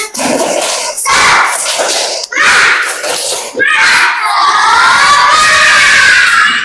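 Primary schoolchildren in a Qur'an class do a tepuk semangat cheer, a loud group of young voices shouting and chanting together in bursts, close and lively, with excited calls rising toward the end.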